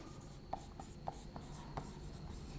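Chalk or marker tapping and scraping across a classroom board during a grammar lesson, quiet and close, with several short strokes in an uneven rhythm and no voices over it.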